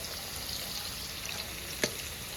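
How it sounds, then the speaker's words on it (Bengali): Steady close-up sizzling of potatoes frying in oil in a wok, a continuous crackling hiss with one brief sharp tap partway through. "আলু টালুগুলো সব লাল লাল করে ভেজে নিচ্ছি"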